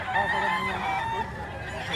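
A year-old rooster offered for sale at a market, its crowing and harsh fowl calls ringing out loud and continuous over a busy, noisy background.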